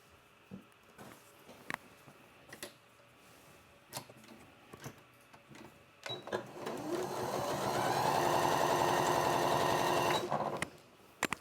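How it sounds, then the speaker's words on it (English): A sewing machine stitches small fabric squares onto a strip in a home quilting setup, with a few scattered clicks and handling sounds before a loud, steady run of rapid needle chatter lasting about four seconds that then stops abruptly. "So now we can sew that last little square to the strip."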